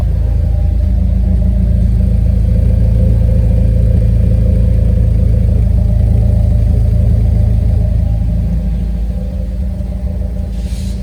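A B15 Nissan Sentra Spec V idling loud and close, its engine and exhaust giving a deep, steady rumble that holds evenly for several seconds before easing slightly near the end.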